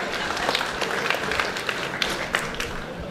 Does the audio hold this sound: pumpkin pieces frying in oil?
no